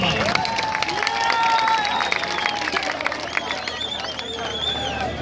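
A large outdoor crowd at a Pakistan Independence Day celebration claps and cheers steadily throughout, with shrill whistles and horn-like tones rising over the dense, continuous hubbub and babble of voices.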